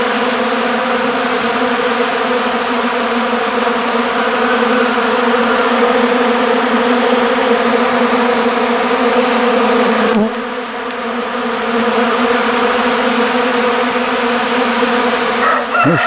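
A dense swarm of honeybees in February buzzes loudly and continuously, a steady droning hum close up with no voices.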